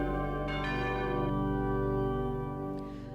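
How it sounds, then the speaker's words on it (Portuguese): Church bell ringing, struck tones sustaining in long overlapping harmonics with a fresh strike near the start and another just before the end, steady and fairly loud with no voices. "será que o barulho do sino da igreja pode ser perdoado?"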